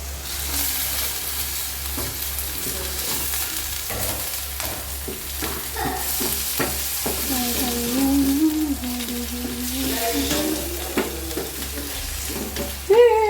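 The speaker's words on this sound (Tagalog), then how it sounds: "Lalagay ko na yung sahog. Igisahin ko siya guys." Ingredients for a bean sprout dish sautéing in a pan, with a continuous loud sizzle, occasional stirring scrapes and a steady background hum.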